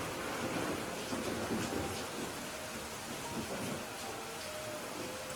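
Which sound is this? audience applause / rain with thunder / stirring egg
rain with thunder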